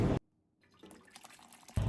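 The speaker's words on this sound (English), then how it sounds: "then I'm gonna pour it through a colander that's been lined with a tea towel" Beef bone broth pours through a colander lined with a tea towel, a soft, steady trickle of liquid that swells in the middle stretch, framed by short, louder kitchen noises at the start and end.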